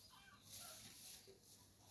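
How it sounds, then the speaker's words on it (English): Free-roaming local chickens cluck softly near an organic vegetable nursery bed in a rural countryside setting, a brief faint burst of clucking against a light outdoor background. "around here we have so many local chicken that keep moving around"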